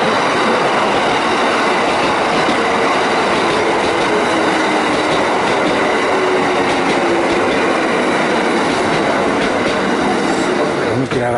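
A Kintetsu train passes through a station in Nara, a loud continuous rumble of wheels and rail noise that fills the whole stretch with steady clatter and no pauses.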